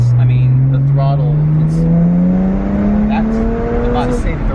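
A low-mileage BMW 1M engine revs under steady throttle, its loud, close drone climbing gradually in pitch across the clip with rising harmonics and a faint voice underneath.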